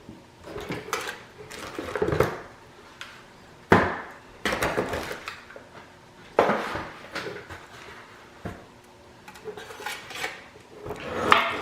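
A screwdriver works screws loose from the side of an Artika Essense bar light fixture, giving intermittent close scraping, clicking and rattling handling sounds with short pauses in between.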